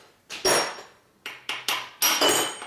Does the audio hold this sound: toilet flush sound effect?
no